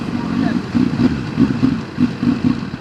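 A CFMoto 750SR sportbike engine runs close by with a pulsing, throbbing note that rises and falls in short regular bursts, while someone talks over it.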